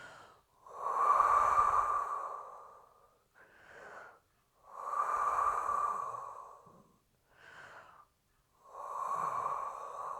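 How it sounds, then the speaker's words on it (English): Slow, deep breaths during a Pilates pelvic floor exercise, long airy inhales and exhales repeating in a calm cycle, close and quiet with pauses between. "Just take some deep breaths in this position."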